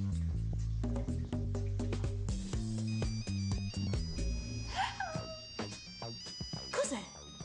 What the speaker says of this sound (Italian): Sembra lo squillo di un cellulare